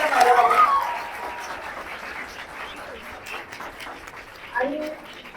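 An audience at a live interview event applauds to welcome popular actors Prajakta Mali and Ankush Chaudhari, a moderate wash of clapping that continues under a speaking voice and swells briefly near the end.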